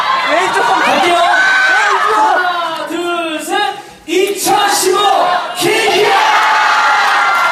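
Theatre audience at the closing performance of the musical Kinky Boots shouting a chant together: a loud crowd roar of voices in unison, rising and falling in several bursts with a short dip midway.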